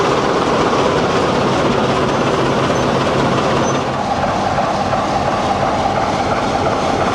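A British Rail Class 44 diesel locomotive hauls a heritage train between Rowsley and Matlock at Peak Rail, a steady close rumble of the running train heard from inside a carriage with continuous wheel and rail noise and no talk.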